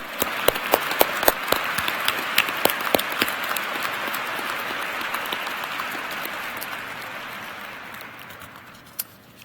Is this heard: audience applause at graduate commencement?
yes